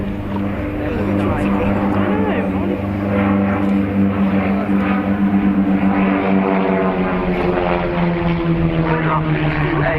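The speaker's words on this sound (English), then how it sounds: "145 horsepower from one of the great British aero engines, the de Havilland Gypsy Major 8" Vintage de Havilland aircraft, each powered by a 145-horsepower de Havilland Gipsy Major 8 engine, fly in close formation at an airshow, giving a loud, steady, droning propeller roar whose pitch slowly shifts as they manoeuvre overhead.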